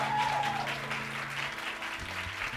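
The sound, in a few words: audience applause in church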